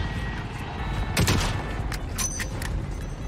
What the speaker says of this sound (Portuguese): E foi um tiro só